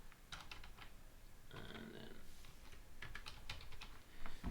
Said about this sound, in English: sorry, different keyboard here.